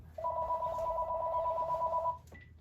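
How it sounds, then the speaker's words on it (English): A home landline telephone rings with one long, steady electronic trill lasting about two seconds, then stops, followed by a short faint beep. "my phone is ringing"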